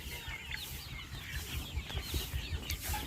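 A flock of 47-day-old Sonali chickens clucking and murmuring together, steady and busy, with scattered louder calls over a low rumbling background; no talking.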